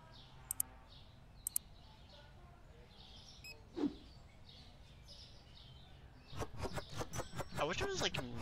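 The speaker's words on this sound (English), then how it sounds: "It's just the sound of birds, even though like we're in the middle of the city." Birds chirp in short, sparse bursts near the start of a quiet city scene in Supermarket Simulator, with a brief thud midway, then a voice speaks over the end.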